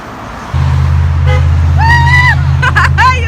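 A car horn blares in a long steady tone, with higher honks from other vehicles joining in short bursts over it, loud and close.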